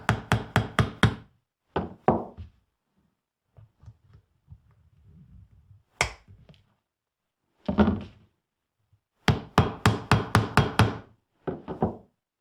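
Nails are hammered into a stacked marquetry veneer packet in quick runs of four to six sharp taps, with pauses and softer knocks in between.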